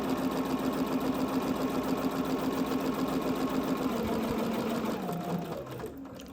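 A sewing machine runs steadily with a hemmer foot, stitching a rolled hem in delicate fabric, its fast even whir close and continuous before slowing and fading near the end.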